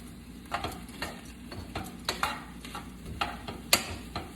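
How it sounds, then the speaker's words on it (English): Defrosted cauliflower rice sizzles in a hot pan while tongs scrape and tap against it in irregular strokes, close by. "I'm putting the cauliflower rice in first that we defrosted at the beginning by frying it around in the pan"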